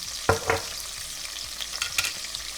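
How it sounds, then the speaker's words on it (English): Andouille sausage fries in a pan with a soft continuous sizzle, broken by a few scraping stirs of a utensil, close up and fairly quiet. "I'm adding a little bit of andouille first. Alright. Let it fry a little bit."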